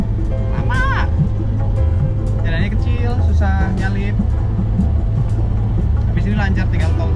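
A 1970 Mercedes-Benz saloon cruising and overtaking on a highway at night, its engine and road noise a loud steady drone inside the cabin, with people talking over it throughout.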